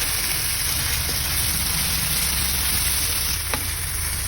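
Shrimp soaked in Sprite fry in a pan for buttered shrimp, making a dense, even hiss of crackling oil at steady loudness, with a faint clink or two of a utensil.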